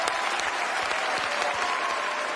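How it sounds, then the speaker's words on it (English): A studio audience at a game show claps in sustained, even applause, dense and steady across the whole moment with no voices on top. "Big round of applause for Jules, everyone."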